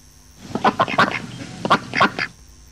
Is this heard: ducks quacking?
yes